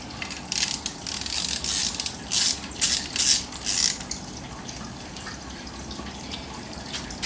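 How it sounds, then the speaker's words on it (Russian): Bolt tightened with a ratchet wrench on a Yamaha 5 outboard motor, a run of rapid rasping clicks in several bursts up close, then quieter handling noise. "Затягиваем данный болт."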